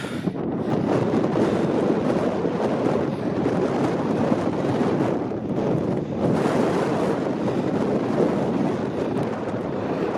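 Strong wind buffeting the microphone on a mountain ridge on Helvellyn near Striding Edge, a loud continuous roar with gusty surges and no voices.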